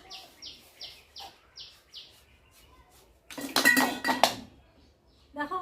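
A clay pitha frying pan breaks with a sudden close clattering crash lasting about a second. Faint rhythmic chirps come before it, and a sharp knock follows near the end.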